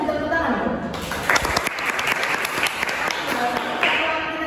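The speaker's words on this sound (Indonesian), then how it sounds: "Kasih tepuk tangan dong." Applause from students in a classroom rises and then continues through the rest of the moment, dense and close with sharp claps, while voices carry on underneath.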